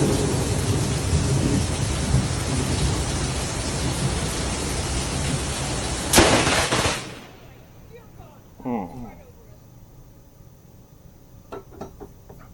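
Thunderstorm with heavy rain pouring outdoors as a broad, steady roar, broken by one sudden sharp thunder crack that cuts the downpour off abruptly, leaving quieter background with a few faint knocks and brief sounds.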